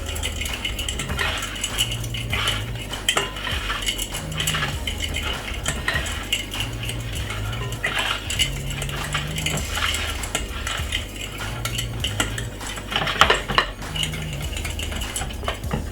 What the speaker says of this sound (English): Use a fork and combine all the ingredients together